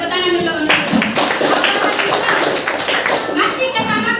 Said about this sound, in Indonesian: Oke, tepuk tangan dulu untuk itu.